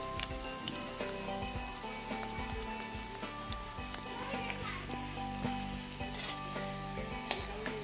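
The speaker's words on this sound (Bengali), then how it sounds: "তাই উল্টে দিলাম অপর পৃষ্ঠাটা ভাজার জন্য" Potatoes sizzle in hot oil in a pan, a continuous close crackle and hiss with occasional stirring, while a voice and background music carry on over it.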